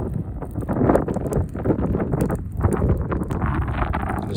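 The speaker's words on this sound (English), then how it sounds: "it's getting windy" Gusty wind buffets the microphone at an outdoor campsite, a steady loud rumble with rustling surges and no talking.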